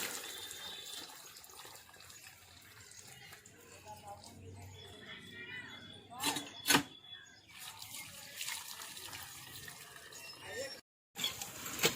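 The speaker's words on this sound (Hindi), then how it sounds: "मकई के पौधा में थोड़ा पानी डाल देते हैं अपने बाड़ी में" Water trickles and splashes as it is poured onto maize plants in a home garden, gurgling unevenly with brief louder bursts, while a person talks throughout.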